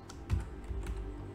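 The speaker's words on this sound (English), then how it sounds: "There you go. I'm using the keyboard." Several soft, close key clicks from a computer keyboard typing on a PC, quiet and alone.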